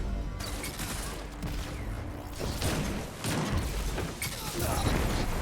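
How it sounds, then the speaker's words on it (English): Grenade blast and rapid gunfire from a Destiny 2 multiplayer match, dense and continuous with bursts and thuds over a busy game soundscape, with a voice talking over parts of it. "We're gonna hit someone with a good grenade here."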